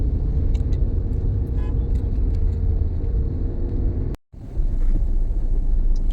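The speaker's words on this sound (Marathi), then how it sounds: "हे बघा तुम्ही बघू शकता ट्रॅफिक ती फुल जाम आहे" Traffic is jammed on Ghodbunder Road, heard from inside a vehicle as a steady low rumble of engines and road noise with faint wind buffeting, a brief dropout near the end, and no talking.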